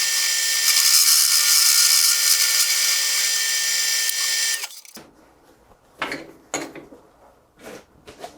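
A drill reams out the center of a welded part on a three-wheeled trike frame, whining steadily and loudly for several seconds before stopping, followed by a few sharp metallic knocks and scrapes.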